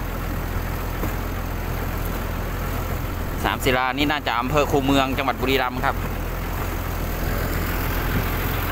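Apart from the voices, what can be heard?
large farm tractor engine running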